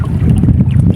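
Strong wind at sea buffeting a small boat out fishing, a loud close low rumble of gusts hitting the microphone, continuous and unbroken over a short stretch.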